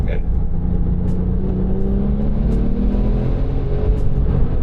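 Porsche 911 Turbo (996 generation) engine pulling hard under acceleration, a steady low rumble with rising tonal whine from inside the car, continuous throughout while people talk over it.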